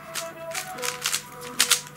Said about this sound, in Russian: Ну, соберем кубик на всякий случай.